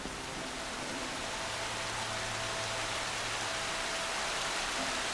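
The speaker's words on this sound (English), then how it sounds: "We can make it rain." Rain falls steadily in Horizon Zero Dawn's photo mode, a constant even hiss of game weather with no voices, holding at one level throughout.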